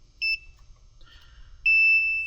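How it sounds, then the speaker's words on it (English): A multimeter set to continuity, tested on the pressure switch of an Oxbox heat pump/AC control board, gives a short high electronic beep, then a longer sustained tone after a pause, both clear and close in quiet surroundings. "It's usually going to make that beep, if we have a good connection"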